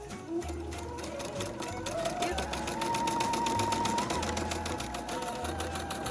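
A sewing machine runs continuously while back stitching and pivoting at the corner of a Christmas napkin, its rapid steady needle rhythm filling the whole stretch with slight changes in speed.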